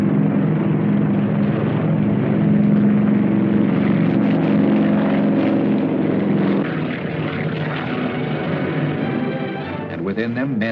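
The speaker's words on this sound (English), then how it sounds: "At dusk, the first planes took off, each transport towing twin gliders." Propeller-driven WWII transport planes take off at dusk, each towing two gliders, making a loud, continuous engine drone that fills the scene without any talking.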